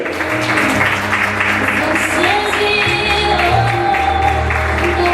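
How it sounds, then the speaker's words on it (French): Loud, sustained applause from a large audience at a 25th wedding vow renewal ceremony honoring Tony Joly, with music playing underneath throughout. "Monsieur Tony Joly, applaudissez-le, mesdames et messieurs."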